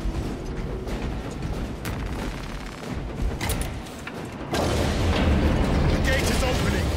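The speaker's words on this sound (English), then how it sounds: "So I like the bolt carbine, extremely rapid fire." Rapid bolt carbine gunfire in Space Marine 2 crackles as a dense stream of sharp bursts amid a loud battle din, surging louder in the final seconds.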